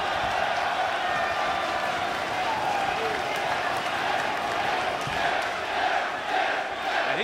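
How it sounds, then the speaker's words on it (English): A wrestling crowd in London keeps up a steady roar of cheering and clapping at a Bullet Club versus LIJ ten-man match, with commentators talking over the noise throughout. "And this crowd in London want to see it."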